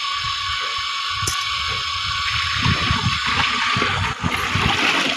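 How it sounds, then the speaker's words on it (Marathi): Water from a motor-driven pump gushes through a pipe onto a construction site, a continuous rushing, splashing flow, close and fairly loud, that grows busier partway through. "तर बघा मोटर चालू केली आता इकडं, तेजूने मोटर चालू केली."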